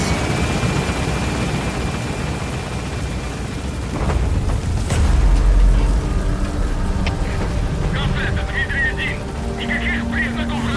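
A helicopter in Metal Gear Solid V roars steadily as it gains altitude, a dense rotor and engine rumble with a heavy low thump partway through and metallic whines later, while a radio-style voice talks over it.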